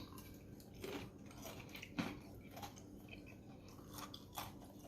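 Crunchy biting and chewing of a deep-fried Cornish hen close to the mic, with crisp crackles and a sharp crunch midway, no talking.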